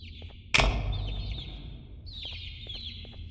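Clucking from a bird in the video game Garten of Banban: rapid, repeated chirpy clucks over a low steady background hum, with one loud sudden thump near the start.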